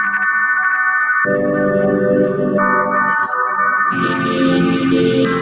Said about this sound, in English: So that's just the reverb.